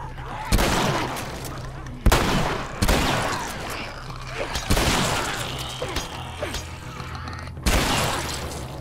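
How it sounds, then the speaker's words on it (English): Shotgun fire in The Last of Us, several loud, sharp blasts spaced a second or two apart over rumbling game noise, with speech mixed in. "What's that? Shotgun."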